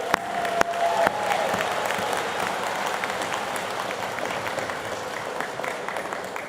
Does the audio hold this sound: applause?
yes